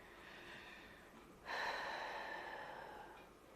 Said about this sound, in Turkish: Derin bir nefes alalım öncelikle.